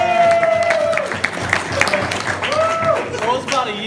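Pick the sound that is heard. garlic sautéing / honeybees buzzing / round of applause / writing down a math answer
round of applause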